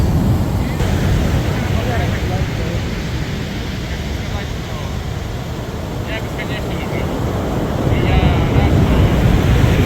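Ocean waves surging against a pier underfoot, a continuous loud rumbling wash with heavy wind buffeting the microphone and some faint talk mixed in.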